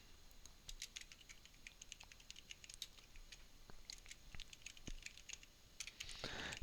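Quick, light clicking of computer keyboard keys in an irregular, close typing rhythm, soft and clear above a faint background hiss, with no one speaking.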